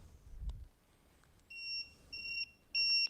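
A TickTime kitchen timer finishes a five-second countdown and sounds three bursts of bright, high-pitched electronic beeping, each louder than the last, in a quiet kitchen after a faint tap.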